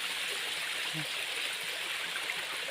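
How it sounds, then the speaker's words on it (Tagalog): A waterfall, the third of several falls, roars as a steady broad rush of flowing water, close and loud throughout, with no clear talk over it. "Pangatlong falls mga idol, napakaganda."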